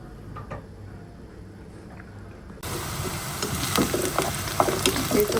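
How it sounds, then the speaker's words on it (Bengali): Onions frying in a pan for a Bengali stinging catfish curry cooked with potatoes and tomatoes, a quiet hiss that jumps to a loud, dense, steady sizzle halfway through, close by with no talk. "পেঁয়াজ এটা খুব ভালো করে মোটামুটি ফ্রাই করে একদম লাল করব না"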